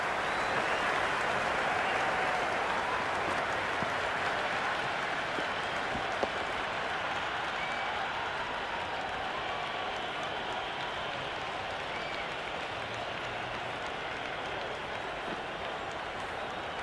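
Simulated cricket crowd in the Cricket 26 PC game during an India vs England T20 match, a dense, steady roar of cheering and applause that holds loud and continuous throughout without letting up.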